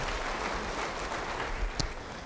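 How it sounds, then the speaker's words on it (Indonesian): Applause during a church service, a dense, steady wash of clapping from a congregation sustained throughout. "Yang mau beri tepuk tangan bagi dia."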